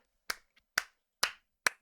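A streamer claps four times, evenly spaced, each clap crisp and close in otherwise quiet surroundings.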